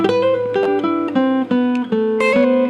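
Clean jazz guitar chords from a chord melody are plucked slowly one after another, each ringing into the next as a gentle melody line steps downward and back up.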